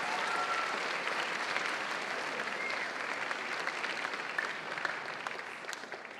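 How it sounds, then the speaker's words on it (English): A school assembly audience applauds steadily, a dense patter of many hands clapping at moderate distance, sustained from start to finish. "can we please give yourselves and all of our cutters a big round of applause?"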